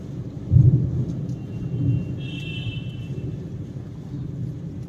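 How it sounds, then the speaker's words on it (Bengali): A heavy rainstorm with frequent lightning brings a deep, low rumble of thunder that swells early and fades, under a steady background wash of rain. "খুব বিচ্ছিরি ভাবে বৃষ্টি"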